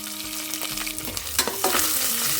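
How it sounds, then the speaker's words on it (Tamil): Oil sizzles as green chilies, curry leaves, dried red chilies and asafoetida are fried and stirred in a pan for a South Indian brinjal and mochai rice, a close, crackling sizzle with scraping strokes. "பச்சை மிளகா கருவேப்பிலை வரமிளகா கொஞ்சம் பெருங்காயம்"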